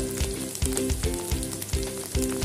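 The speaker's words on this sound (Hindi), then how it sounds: "एक चम्मच धनिया जीरा पाउडर ऐड करके भून कर लेंगे" Ginger garlic paste fries with turmeric and coriander-cumin powder in a pan, a loud, close sizzle broken by regular stirring strokes roughly every half second, with nobody speaking.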